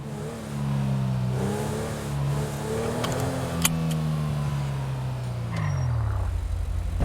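A car engine in the FiveM video game holds a steady mid-pitched drone for several seconds, its pitch wavering as it revs, then dropping toward the end, with no talking over it.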